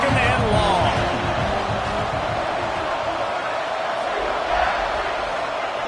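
Loud, sustained roar of a home crowd at a college football game in a video game, Coastal Carolina versus South Carolina, a dense steady wash of cheering with a voice audible in it throughout.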